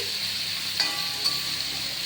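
Potatoes fry in a pan with a faint, steady sizzle and a couple of soft stirring taps.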